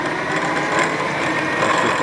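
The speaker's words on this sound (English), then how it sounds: "That's just the drawbar here." A Kurt power drawbar on a TRAK 3-axis CNC bed mill with a 40 taper spindle runs with a steady, even mechanical whir, close and continuous for about two seconds.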